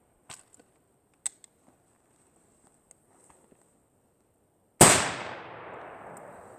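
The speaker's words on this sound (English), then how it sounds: "Gun fires." A Swiss straight-pull rifle fires one loud, sharp report that rings out and decays, preceded by a few faint mechanical clicks and handling taps in an otherwise quiet outdoor setting.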